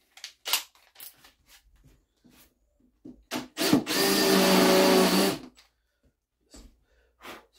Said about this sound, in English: I'm going to use the drill to countersink it this time.